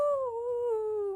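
A human voice imitates a wolf howling with one sustained, steady, loud tone that slowly sinks in pitch over about a second.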